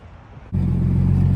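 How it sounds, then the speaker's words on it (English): A car with a painted body kit starts up and pulls away for a test drive, a quiet idle giving way abruptly to a loud, close engine rumble that holds steady. "Going for a test drive."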